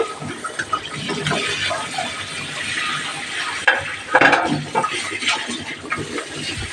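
Fried paneer cubes being stirred into a thick tomato gravy in a pan, with soft scraping and low sizzling throughout and a few louder clatters of the spoon midway, no talking.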